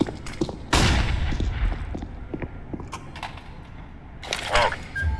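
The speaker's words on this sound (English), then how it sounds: "Throwing flashbang." A flashbang grenade is thrown in the Mass Effect 2 video game: a sharp burst lands near the start, followed by a clattering, creaking rumble of combat noise and a second loud burst near the end.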